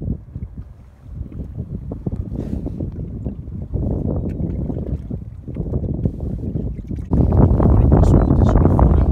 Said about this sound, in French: un second en vertical traditionnel à l'aide du moteur électrique